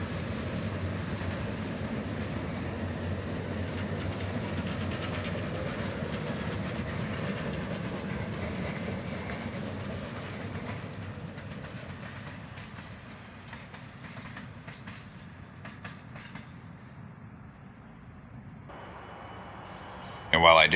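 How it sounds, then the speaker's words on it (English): A CSX office car special train led by two B&O-inspired F40PH diesel locomotives passes through town, a steady rumble of locomotives and rolling cars that slowly fades as the train moves away. "The CSX office car special heading through town, led by two of their three B&O inspired F40PH locomotives."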